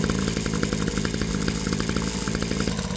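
A brand-new quad ATV fires up for the first time, its small engine running loud and steady with a rapid, buzzy rhythm and some mechanical clatter throughout.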